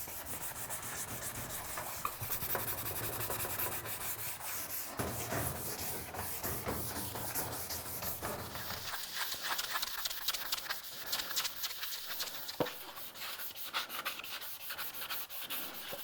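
Sanding on an old baseboard heater: a steady, close scraping rub that runs continuously, coarse and gritty in the first half and turning thinner and higher later, with a few sharp clicks of the tool against the metal.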